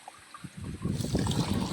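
Water poured into a farm sprayer pump tank, a soft splashing trickle that starts faintly and grows into a steady, fuller stream, close by with no talk.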